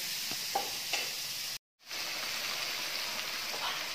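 Dal added to a hot pan with amra (hog plum) sizzles and hisses steadily while being stirred, the frying noise cutting out for a split second before resuming, close and continuous without speech.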